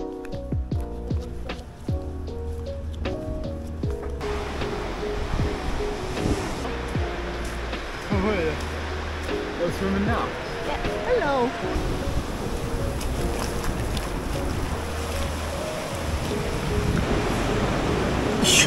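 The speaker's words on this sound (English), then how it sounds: "look at the waves" Ocean waves wash continuously onto a holiday beach, a broad steady rush with gusts of wind noise on the microphone, while people talk nearby throughout.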